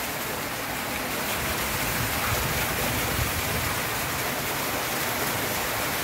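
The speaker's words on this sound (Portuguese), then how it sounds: "que chuva, que vento. Olha, é água com força. Ó, a bica da casa." Heavy rain and wind outdoors, with water pouring hard from a house gutter spout: a dense, steady broadband wash of splashing and rushing water throughout, loud and close, with no voices.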